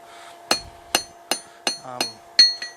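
A hammer rings on hot steel as a fire poker taper is drawn thin on the anvil, seven sharp metallic strikes spaced evenly about a third of a second apart, close and alone.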